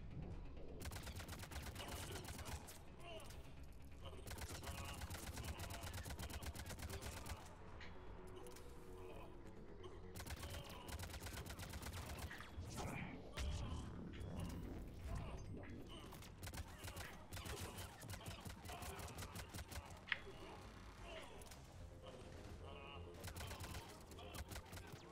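Rapid automatic turret gunfire in the video game Mass Effect 3, a dense, sustained rattle of bursts and shots running nearly unbroken under game noise, with a voice talking over it.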